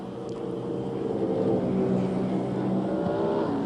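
Racing cars on the final lap of an International Superstars race, a BMW and a Mercedes among them, their engines droning loud and steady with a rising and falling roar throughout.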